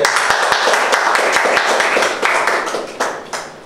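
Clapping of thanks from an audience at an event honouring actor Kalyanji Jana, close and loud individual claps in a fairly regular rhythm over a softer bed of crowd applause, tapering off near the end.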